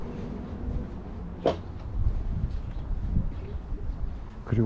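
Birds call faintly outside a large cathedral in Georgia, with scattered brief chirps and soft cooing over low outdoor background noise.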